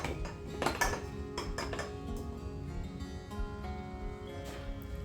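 Empty dry-fruit jars set back in place in a kitchen clink and knock in scattered, fairly quiet taps against shelves and each other.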